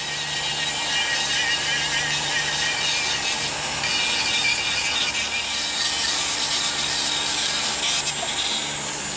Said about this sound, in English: Then I'll switch over to a sander and kind of sand it a little bit.